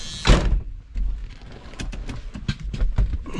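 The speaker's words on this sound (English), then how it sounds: "The door even shut." A door shutting on an old Ford Country Squire station wagon gives a solid thump near the start, followed by scattered knocks, clicks and rattles close by.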